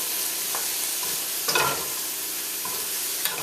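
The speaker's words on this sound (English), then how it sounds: "Give it a quick stir again." Salted cabbage is tossed around a hot pan, a steady close frying hiss with a few scraping and rustling strokes of the spatula, one stronger shuffle in the middle.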